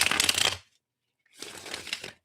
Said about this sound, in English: let's shuffle these a bit, shuffle the question into the cards.